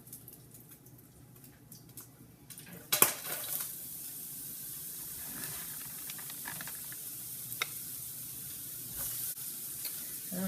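Sweet potato noodles sizzle as they drop into warm olive oil with sausage in a pan, a sudden loud burst of frying that settles into a steady hiss with occasional stirring and pops.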